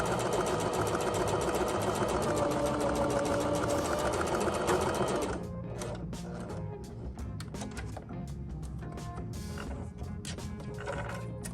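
A sewing machine runs a straight stitch along folded fabric for about five seconds, a fast steady whirring loud and close, then stops, leaving quieter handling clicks and rustles.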